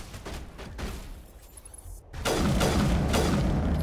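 Sniper rifle gunfire in Mass Effect 1 combat: a series of sharp cracking shots over a rough background, a brief drop, then a loud, dense burst of blasts and rumbling debris.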